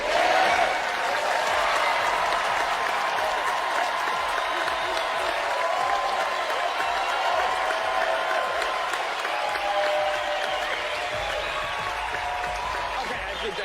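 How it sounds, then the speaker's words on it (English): A studio audience on a magic competition show claps and cheers to fuel a stunt, with dense, steady applause and crowd noise holding loud and continuous throughout, while a voice speaks over it. "the louder everyone here claps and cheers, the more fuel we will add"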